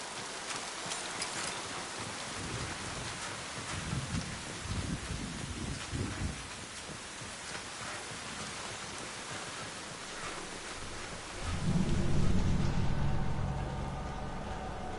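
Steady rain falls across a planet in Mass Effect 2, a dense hiss throughout, joined near the end by a deep low rumble of thunder that swells and lingers.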